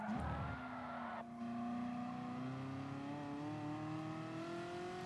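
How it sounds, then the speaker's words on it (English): Gran Turismo Sport race car with ABS switched off, brakes locking hard as the tyres skid in one long continuous squeal over a steady engine drone, loud and close throughout. "Yeah, the brakes lock really hard."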